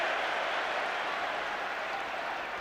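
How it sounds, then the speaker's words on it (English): A large football stadium crowd at a West Ham United versus Liverpool match roars and cheers the linesman, a steady, dense wash of distant voices and applause with no clear breaks. "they're cheering the linesman"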